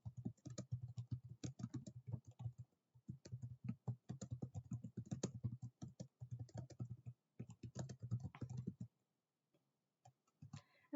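Rapid, steady clicking on a computer keyboard while Java code is typed, close and crisp, with keystrokes in bursts that stop abruptly near the end.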